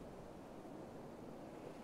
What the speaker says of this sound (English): The waves are getting steep.